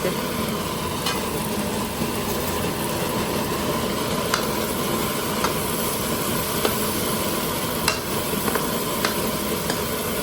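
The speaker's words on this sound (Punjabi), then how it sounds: "ਹੁਣ ਆਪਾਂ ਪਾ ਦਿਆਂਗੇ ਸ਼ਿਮਲਾ ਮਿਰਚ" Capsicum tossed in with potatoes frying in a kadai on a gas stove, a loud, steady oil sizzle with scattered spatula scrapes and clicks against the pan, no talking.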